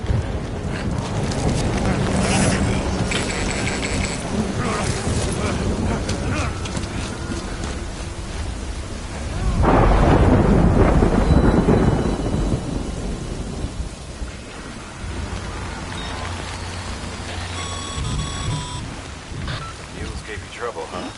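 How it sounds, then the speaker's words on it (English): Thunderstorm with steady rain in the video game Death Stranding, a continuous wash of rainfall with a loud rolling thunder burst near the middle, wind buffeting at times. "Good thing it was raining."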